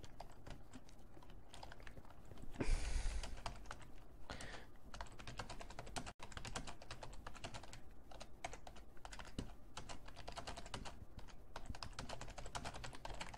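Fast, uneven clicking of a computer keyboard during Minecraft play, close and quiet, with continuous key taps, a brief louder clatter near the start and a short break midway.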